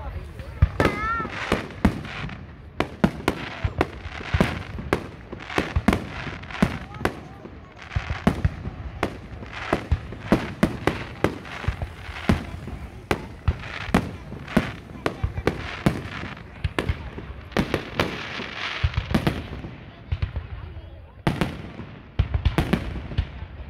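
Fireworks display at the 2022 Utrera fair: a long, dense barrage of loud, sharp bangs and crackling bursts in rapid irregular succession, with voices of onlookers heard between the blasts.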